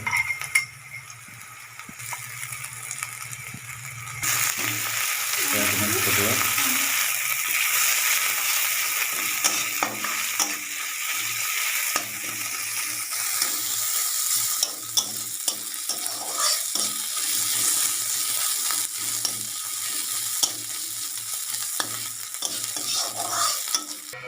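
A paste of ginger, garlic, cumin and mustard fries in a pan for a fish curry, with a steady sizzle under repeated scraping and clinking of a spoon stirring against the pot, close and continuous.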